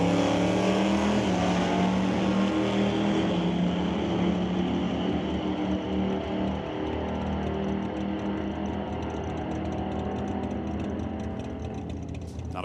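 A Plymouth Barracuda and a Dodge Dart race down the strip at an NHRA Northwest National Open Series drag event. Loud, sustained engine roar holds for several seconds, then slowly recedes and thins out, with no voices over it.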